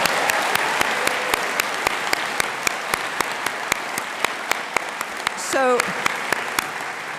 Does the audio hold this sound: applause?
yes